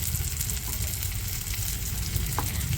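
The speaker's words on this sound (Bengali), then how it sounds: "দিয়ে ভালো করে মশলাটাকে আর একটু কষিয়ে নেব" Crab curry spice paste with turmeric and chilli frying in a pan: a steady, close sizzle and crackle with occasional stirring scrapes, continuous throughout.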